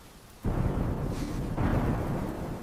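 A deep rumble of thunder breaks suddenly during a stormy night and rolls on loudly. It swells again a second later, then fades slowly, with no voices.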